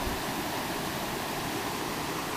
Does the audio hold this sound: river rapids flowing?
yes